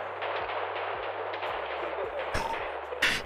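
Video game gunfire cracks out in a rapid string of shots over a steady engine drone, the reports close and sharp, ending in a louder burst of firing.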